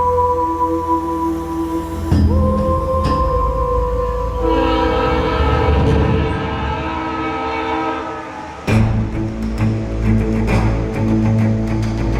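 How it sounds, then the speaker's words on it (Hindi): A train rolls past close by, loud and steady, with sustained horn blasts that sound for long stretches and a heavy rumble of passing cars underneath. "वही ट्रेन की आवाज"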